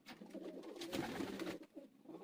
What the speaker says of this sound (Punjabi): ਟੈਡੀ ਸਲਾਰੇ ਟੈਡੀ ਕਬੂਤਰ